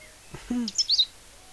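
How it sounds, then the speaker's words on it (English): Cheep Cheep, a small cartoon bird in The Book of Unwritten Tales, gives one quick, close chirping call that rises into a few bright, high tweets. The call is brief and stands alone. "That's only Cheep Cheep, my little very annoying bird."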